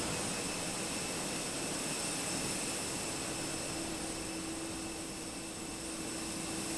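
Fenix A320 jet engine in MSFS2020 running with a steady, even roar and a faint high whine above it, unbroken for nearly seven seconds with no talk.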